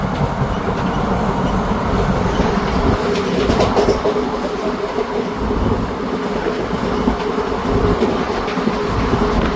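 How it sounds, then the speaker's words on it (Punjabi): Ambala Cantt–Sri Ganganagar Intercity Express train running, heard from inside a coach: a continuous loud rumble with rhythmic wheel clatter and faint rattling throughout. "ਆਪਣੀ ਟ੍ਰੇਨ 14125 ਅੰਬਾਲਾ ਕੈਂਟ ਤੋਂ ਚੱਲ ਕੇ"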